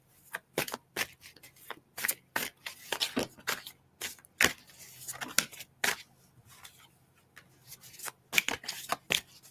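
Tarot cards being shuffled by hand, a close run of crisp riffling flicks and slaps that come in quick uneven bursts, separated by short pauses, with no voices.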